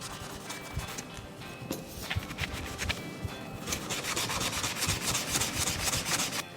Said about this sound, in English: I've got a 320 grit and I sand very well the whole handle